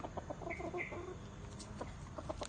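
A chicken clucks repeatedly nearby in short, soft bursts, with a few higher squawks mixed in over a low background.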